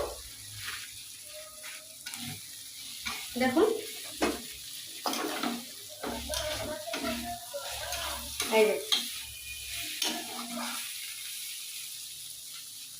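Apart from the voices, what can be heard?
lentil dumplings frying in oil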